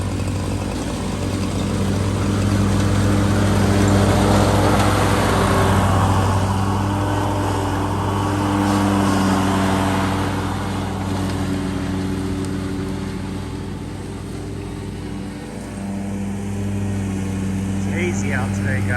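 A lawn mower engine drones steadily for an extended run, swelling and fading slightly as it moves across a yard, with a voice talking over it for part of the time.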